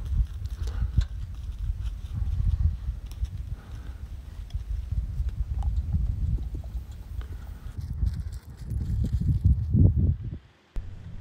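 Faint donkey cart hooves clip-clopping at a walking pace on a road, with low rumbling background noise and a brief drop to near quiet at the end.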